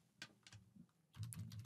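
Typing on a computer keyboard: soft, quick key taps spaced apart at first, then a faster, denser run of clicks, close and quiet.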